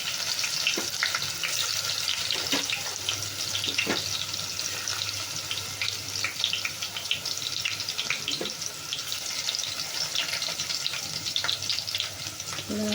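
Garlic fries with cumin seeds in hot oil, a steady close sizzle and crackle with scattered pops and faint stirring, continuous throughout and without speech.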